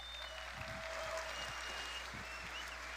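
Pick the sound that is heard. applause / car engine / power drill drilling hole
applause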